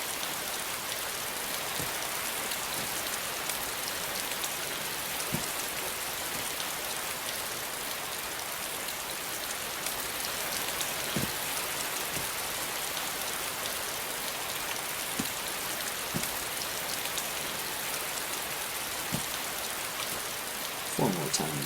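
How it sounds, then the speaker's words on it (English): Continuous rain in the video game DayZ, a broad steady wash of falling drops and surface patter with a few sharper drips and taps scattered through, holding level from start to finish with no talk. "it's got lots and lots of water, lots of rain."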